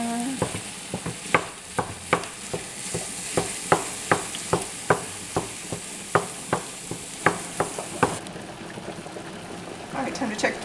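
Lean ground beef sizzles with onion and garlic in a pan while a spoon scrapes and stirs in steady, repeated strokes, close and fairly loud over a constant frying hiss.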